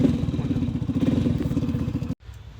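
A Hero Splendor motorcycle, a 2012 model running an RX100 silencer with the spark plug removed, chugs loudly and unevenly with rapid thudding pops for about two seconds, then cuts off abruptly, leaving a faint low rumble.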